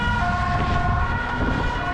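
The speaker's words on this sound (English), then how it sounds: "wait for the ambulance to go by" An ambulance siren passes close by on a city street during a run, its loud wailing tone steady over heavy low traffic rumble, with no talking.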